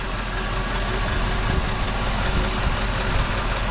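A Jeep WJ engine runs steadily after repair, with new gaskets burning in, a rough, even rumble, loud and close, with faint rhythmic knocking underneath and no voices.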